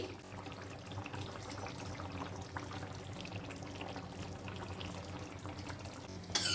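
Spicy red chicken curry simmering in a pot for a 15 August lunch, giving a steady close bubbling and sizzling with a liquid, pouring-like wash that runs unbroken throughout.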